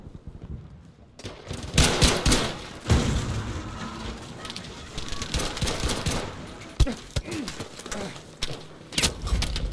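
Bursts of rapid automatic gunfire crackle with booms and sharp impacts, loud and close, in a busy Battlefield V battle.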